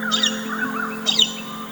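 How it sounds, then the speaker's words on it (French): Galah cockatoos give two bursts of harsh, rasping screeches, loud and close, with a steady low hum underneath. "résonne en eux le chant des galas."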